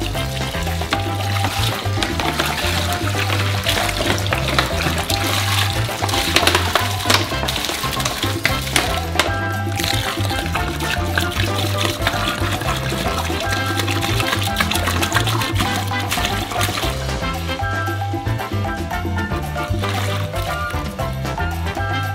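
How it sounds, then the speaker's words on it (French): About 35 litres of water pour steadily into a large mixing vessel, a loud, continuous splashing and rushing that lasts throughout, with no voices. "Pour faciliter le mélange, on verse d'abord la moitié de l'eau."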